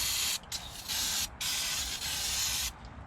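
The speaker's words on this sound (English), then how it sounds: "A little bit more of the brake cleaner." Brake cleaner sprays from a can onto the rear brake and hub parts of a 2001-05 Honda Civic in three loud, steady hissing bursts separated by short pauses, with no talking.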